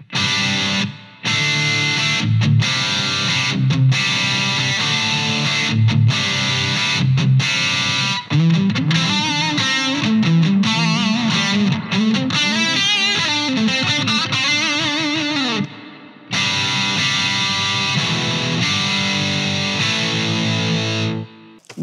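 Electric guitar played through a Bogner GF45-SL Goldfinger Superlead amp with its reverb engaged, loud distorted chords and riffs ringing with a reverb tail, a brief gap near the start and another toward the end, no talking.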